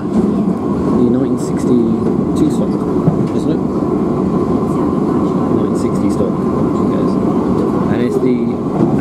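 An asset inspection train rumbles past steadily with a continuous low roar and rail noise, loud and close throughout, with faint higher clanks above.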